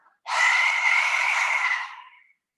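A single long, forceful lion's breath yoga exhale pushed out through the open mouth with the tongue out, breathy and raspy, rising quickly and fading off after about two seconds.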